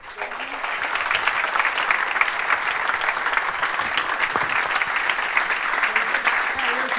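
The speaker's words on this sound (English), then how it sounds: "Round of applause, everyone." A conference audience breaks into steady, dense applause after a presentation, many hands clapping evenly for the whole stretch at a constant, moderately loud level.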